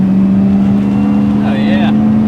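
Mazda RX-7 (FD) with an LS3 V8 engine swap driving through turns, a loud, steady in-car engine drone with a faint squeal-like sound briefly partway through.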